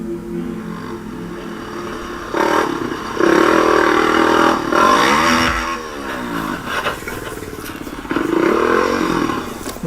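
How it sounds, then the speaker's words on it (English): ATV engine riding a trail, captured on a GoPro, with a steady mid-range motor drone that rises and revs in several surges and some rattling clatter throughout. "uploaded a GoPro video of himself riding his ATV on an unnamed trail"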